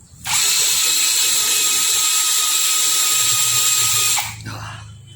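A Nanwei cordless drill fitted with a tungsten carbide bit bores into steel, a loud, steady high whine running close for about four seconds before cutting off and winding down.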